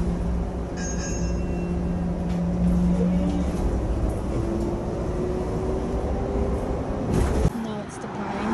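A restored custom Denning coach pulls away with a steady, loud engine rumble and drivetrain whine that builds slightly. Voices can be heard faintly in the background.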